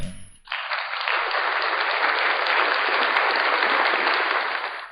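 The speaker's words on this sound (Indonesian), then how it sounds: "Tepuk tangan semuanya untuk MAN 4 Kebumen ini." Audience applauding a madrasah school team at a ceremony, a broad, sustained roar of many hands clapping at steady loudness for several seconds before cutting off.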